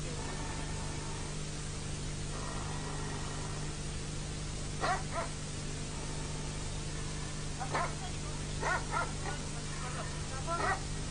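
Several short, high yips and whimpers from Alabai puppies, scattered in brief clusters over a steady low engine-like hum and background noise.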